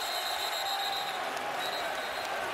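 Steady roar of a stadium crowd at the 2019 LSU vs Texas college football game, loud and continuous broadband noise with no breaks.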